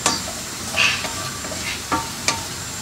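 Eggs frying in a pan for egg curry, with a steady soft sizzle and a few sharp scrapes or stirring clicks from a utensil, close and alone without talk.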